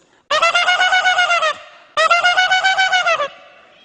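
A man vocally imitates a goose: two long, loud honking calls, each a rapid buzzing series of nasal pulses lasting over a second, separated by a short pause.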